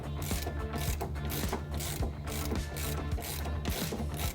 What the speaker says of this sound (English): we're going to begin the installation with the front by removing these lower shock bolts.